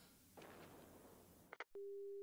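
In the game 428: Shibuya Scramble, a phone call cuts off abruptly: a noisy line with a couple of sharp clicks, then a steady, loud busy tone that holds for about half a second.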